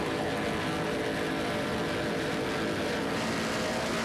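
Offshore racing powerboats, a 35-foot Jaguar with twin 900-horsepower engines and a 40-foot Skater, roar steadily at close range during the 1993 Montauk Offshore Grand Prix, a loud unbroken engine drone with no break.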